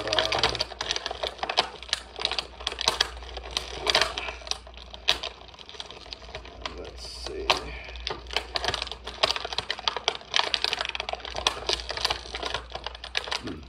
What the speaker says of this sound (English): wrestling with the plastic restraints here to get the figure out of her packaging